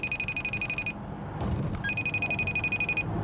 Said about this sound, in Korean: 잭슨한테 전화할 거야.